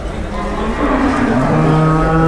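A breeding cow at a Turkish livestock market lets out a long, loud moo up close, its drawn-out call rising slightly over two seconds amid steady background noise.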